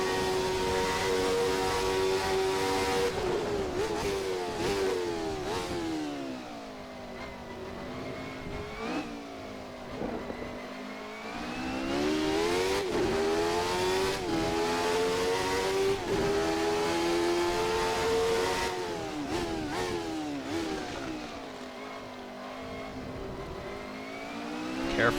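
The engine of a Jordan 191 Formula 1 car in a racing game screams at high revs, its pitch climbing and dropping sharply through repeated gear changes and throttle lifts, loud and close throughout.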